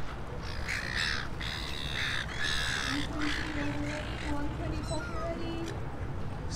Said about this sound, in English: Lady's busy feeding the seagulls.